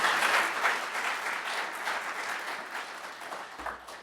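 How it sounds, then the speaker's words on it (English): An audience at a rail conference on Japanese bullet trains breaks into applause, dense and steady clapping from a sizable room that fades slightly toward the end, with no one speaking over it. "if we could too take a second to give Rick and Dylan and the volunteers a round of applause"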